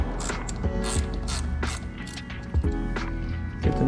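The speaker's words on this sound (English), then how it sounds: "To remove the master cylinder, we need a 8mm for these two" An 8mm ratchet loosens the screws on an RS 660 brake master cylinder: rapid, close pawl clicking in short repeated bursts, with no talking.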